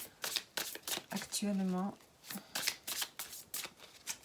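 Tarot cards shuffled by hand produce rapid, close riffling clicks and flutters repeating throughout, under someone speaking French.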